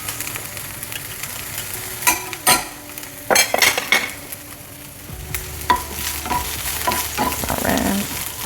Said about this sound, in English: I'm adding in some garlic.